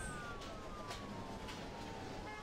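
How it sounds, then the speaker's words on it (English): A faint, distant ambulance siren wails under steady traffic-like background noise in the Emergency 4 Boston Mod video game, with the tone sliding slowly down. "Ambulance"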